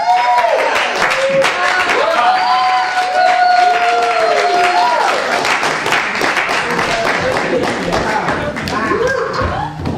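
Audience applause at a live comedy-style show in a club, dense steady clapping that fills the whole stretch, with crowd voices and whoops rising through it.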